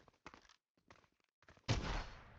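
A single loud blast from a combat shotgun in Fortnite rings out with a decaying tail. It follows a few short clicks and handling sounds from the weapon.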